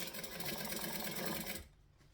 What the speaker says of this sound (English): So I'm going to start here, and I'm going to stitch and back stitch.